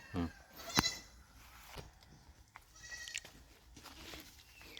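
A hornless goat bleats loudly a few times nearby, with other bleats and faint background voices in an outdoor farm setting.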